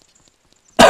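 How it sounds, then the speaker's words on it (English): A man recovering from a cold lets out one loud, abrupt cough close to the mic at the very end, after near silence. "Sorry about my cough."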